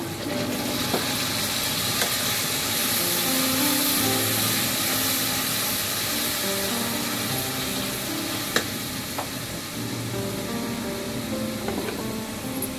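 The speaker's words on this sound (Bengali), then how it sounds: "তো আমি এখন একটু পানি দিব হালকা" Spices fried in oil for a sonali chicken curry sizzle loudly and steadily as a little water goes in, with faint stirring scrapes and no voices.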